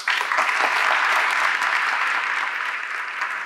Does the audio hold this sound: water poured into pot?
no